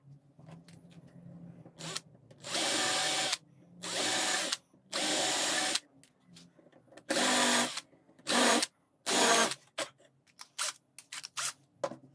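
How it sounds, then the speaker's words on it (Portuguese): A power drill driving screws into a wooden sharpening jig, heard as about eight loud bursts of whirring, several long and several short, separated by brief pauses, with no talking. "Agora é só parafusar."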